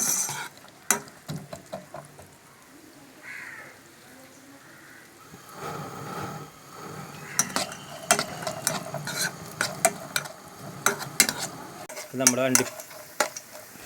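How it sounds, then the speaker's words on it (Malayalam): Soft sizzling of cashews frying in ghee for payasam, with scattered sharp clinks and stirring scrapes from a spoon against the pan, fairly close. "നമ്മുടെ പായസത്തിന് ആവശ്യമായ അണ്ടിപ്പരിപ്പ് നെയ്യിൽ വറുത്തെടുക്കുകയാണ്"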